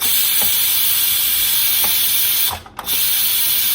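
An Instant Pot pressure release valve vents steam as a steady, loud hiss with a brief cut partway through and faint clicks of the valve between bursts.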